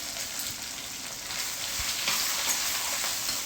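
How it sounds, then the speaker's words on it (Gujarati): Potatoes sizzle and fry in hot tempering oil with mustard seeds, green chilies and asafoetida in a Gujarati kitchen, a steady close crackling hiss throughout. "આ બટાકા વઘાર્યા."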